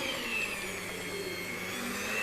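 A mixer kneading donut dough runs with a steady, even motor whir and churning hum, close and continuous throughout, with no talk.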